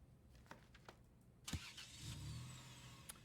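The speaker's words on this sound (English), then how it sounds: "I heard the roar of an engine, the squeal of a car cornering too fast." Car engine roaring in the video game Over The Alps, a quiet low rumble swelling after a sharp thump and holding steady for over a second among faint game sounds.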